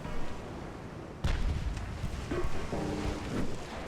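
Torpedoes launched from a warship in the naval game Ultimate Admiral: Dreadnoughts, a sudden broadband whoosh and rumble cutting in after a quiet stretch, followed by a sustained noisy rush with low booming texture, no voices.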